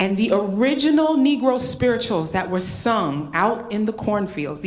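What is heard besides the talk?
None of the usual background noises is heard.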